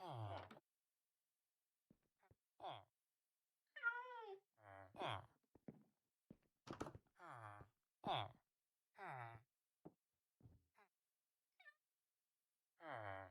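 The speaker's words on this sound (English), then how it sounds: "There's a second cat that I was able to attain." A cat in Minecraft, in the All The Mods 9 modpack, gives several short, scattered meows with quiet gaps between them. A voice can be heard in places.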